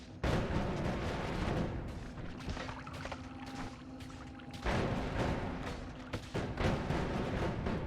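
Continuous rumbling explosive bombardment in Noita, a dense roar of blasts and crackling debris with sharper bursts near the start and middle, fairly loud and sustained with no talking.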